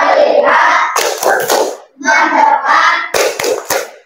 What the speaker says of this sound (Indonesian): Oke, sekarang tepuk fokus.